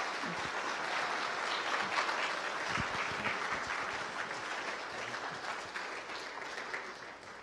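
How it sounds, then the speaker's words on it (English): An audience applauds a winning group of middle school students at a summer math-science-technology institute finale, a fairly quiet, steady wash of crowd clapping that tapers slightly toward the end. "So let's give a big round of applause to that group"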